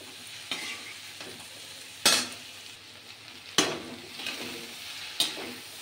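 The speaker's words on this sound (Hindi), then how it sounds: "बना रहे हैं भिंडी की सब्जी आज" Okra (bhindi) curry seasoned with garam masala and salt, frying and sizzling in a pan while a spatula stirs it, with a steady low sizzle and a few sharp scraping strokes spaced roughly a second and a half apart; no talking.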